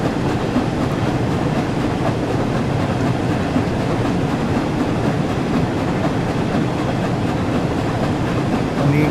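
A train rolls along the East Coast Main Line between Peterborough and Doncaster in Train Sim World 4, a loud continuous rumble with faint rhythmic wheel clatter and no pauses.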